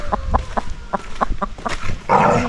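Broody hens cluck in a short series of close, rhythmic low clucks and grunts, roughly eight in quick succession, ending in a louder ruffled squawk.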